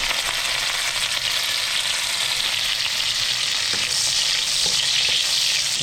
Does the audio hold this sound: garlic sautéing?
yes